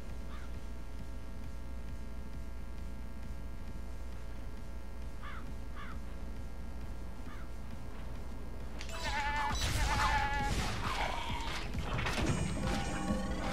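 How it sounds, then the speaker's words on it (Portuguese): A goat bleats in the PS3 video game Tokyo Jungle, several short cries over a steady game background hum, then louder clattering and crashing action sounds later on. "Olha, cabra."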